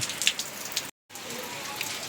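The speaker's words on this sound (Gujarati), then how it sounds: "આજે રવિવાર છે પાછો વરસાદ ચાલુ થઈ ગયો છે" Steady rain falls on surfaces, a dense hiss of patter with scattered nearby drip ticks, continuous apart from a brief cut of silence midway.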